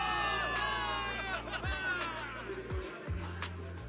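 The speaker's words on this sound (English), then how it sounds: "Give it up for yourselves, soldiers! Cheer for victory!" Game crowd of soldiers in New Eridu from Zenless Zone Zero cheering a victory, a continuous roar of voices with whoops underneath music, moderately loud throughout.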